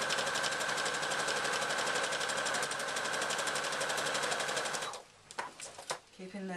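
Sewing machine stitching slowly through thick, lumpy layers of fabric for a reversible handbag, a fast, steady mechanical whir and needle chatter that runs continuously, then stops abruptly, followed by a few clicks and handling noises.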